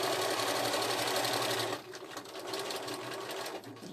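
A sewing machine runs fast and loud, stitching through quilt-as-you-go backing, then drops to a slower, quieter whirring, as when reverse-stitching at the end of a seam.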